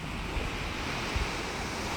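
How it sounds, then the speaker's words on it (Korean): Ocean surf rolls continuously onto a beach, a broad rushing roar mixed with wind buffeting the microphone, with a couple of low thumps and no voices. "저도 진짜 오랜만에 진짜 오랜만에 파도 소리 들어요."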